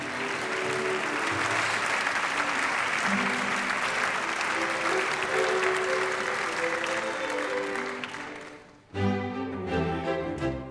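An audience at a European heritage awards ceremony applauds in a dense sustained burst of clapping that fades out around the ninth second, followed by a brief musical or tonal sound.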